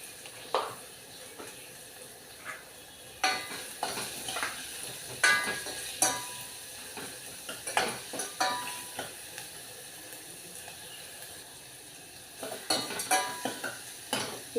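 Spinach dal (palakura pappu) tempering fried and stirred in a pan: a steady sizzle runs under repeated scraping and clinking strokes of a spoon against the metal, close and fairly loud, with no talking.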